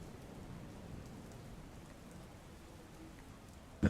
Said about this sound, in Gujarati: અત્યારે વરસાદ 2-3 દિવસથી આ સારો પડે છે